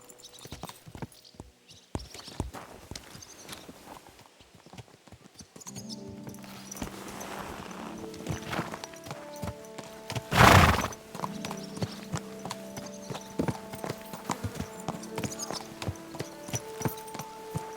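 A horse ridden in Kingdom Come: Deliverance II, with steady clip-clopping hooves at a walking pace close by and a loud whinny partway through, under a low ambient hum.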